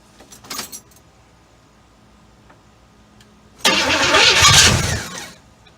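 A long-dormant barn-find Pontiac Firebird, unstarted for over twenty years, cranks on its first start attempt: a short burst near the start, then a loud, sustained churning crank of about a second and a half that tapers off, with no voices.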